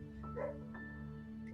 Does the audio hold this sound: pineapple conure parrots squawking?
no